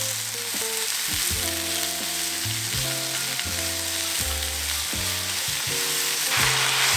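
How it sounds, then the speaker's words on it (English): Sliced onions fry with sugar in a pan, a constant soft sizzle running beneath melodic background music for the whole stretch. "put in our sliced onions. And in order to make it a little bit more sweet, I'm gonna add in 2 teaspoons of sugar and cook the onions in the sugar"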